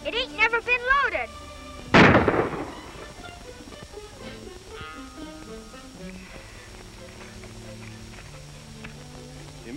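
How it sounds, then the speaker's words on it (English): A single sharp gunshot rings out in a 1937 Western film scene, loud and close, with speech before it and more talk and background sound continuing afterward. "Oh, Jimmy, that's bad shooting"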